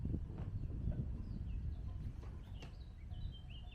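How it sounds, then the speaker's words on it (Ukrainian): Faint bird chirps scattered over quiet outdoor ambience in Spain, a few thin high calls rising now and then from a calm, distant background. "Пташечки."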